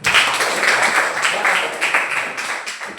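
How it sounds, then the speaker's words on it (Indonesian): A class of pupils claps together after a lesson on funeral prayer, a brisk, busy round of applause from many hands close by that keeps up steadily for a few seconds. "Tepuk tangan."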